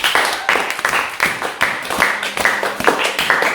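A church congregation clapping in quick rhythmic bursts to acclaim the Lord, loud and close, with steady repeated claps through the whole stretch.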